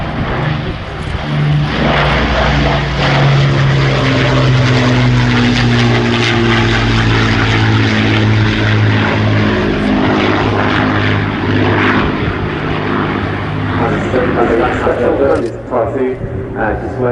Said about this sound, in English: Our Lancaster PA474 which is one of only two of these iconic four-engine heavy bombers still airworthy